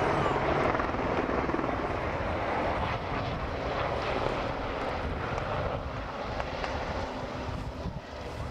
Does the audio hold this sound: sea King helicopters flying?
yes